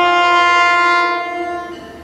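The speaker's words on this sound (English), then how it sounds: "I heard the Metro North horn too." A loud, close Metro-North train horn sounds at Beacon station, one sustained multi-tone chord that holds and then fades slightly near the end.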